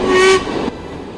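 The Hogwarts Express steam train crossing a long Scottish railway viaduct sounds a loud, brief whistle blast, then a fading rumble of rolling carriages.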